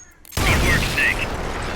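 Gunfire in Metal Gear Solid Peace Walker opens abruptly with a loud bang after near silence, then a crackling burst of shots and noisy rumble continues.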